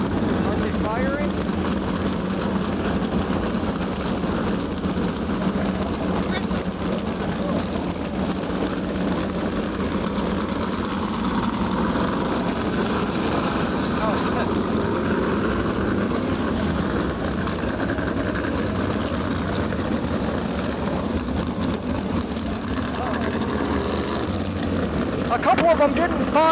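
Classic engines crank and run up at an outdoor start-and-run event, a continuous rough mechanical drone that holds steady throughout, with people talking over it.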